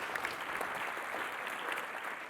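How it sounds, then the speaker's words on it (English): Steady, fairly faint audience applause fills a panel session at a television industry conference, a dense even wash of many hands clapping with no voices over it. "So we say thank you and clap."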